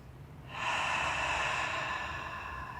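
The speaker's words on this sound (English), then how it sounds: "As long as we continue to keep this breath audible, known as our Ujjayi Pranayama, ocean's breath" Audible Ujjayi ocean's breath during a yoga practice: one long, steady, airy breath rises after a quiet start and holds softly with a hushed, throaty rasp, close and alone.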